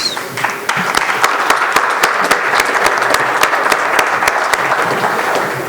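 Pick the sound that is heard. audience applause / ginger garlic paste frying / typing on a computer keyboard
audience applause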